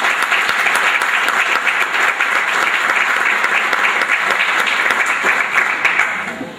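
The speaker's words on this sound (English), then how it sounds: "a big round of applause for you people" A banquet audience at a senior sports awards dinner breaks into sustained, dense applause, many hands clapping loudly together before tapering off at the end.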